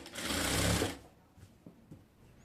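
Sewing machine running a fast stitch along the side seam of a top, a close, loud mechanical whir lasting about a second, then stopping, followed by a few faint handling taps.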